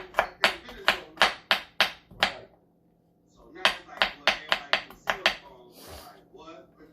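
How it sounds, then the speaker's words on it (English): Onions being chopped with a knife on a board in a home kitchen, two quick rhythmic runs of sharp, close chopping strikes separated by a brief pause. "So now I gotta start chopping this up."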